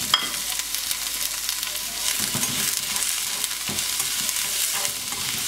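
Onions frying in a pan give a steady, close, dense sizzle with a few stirring scrapes mixed in; no voices.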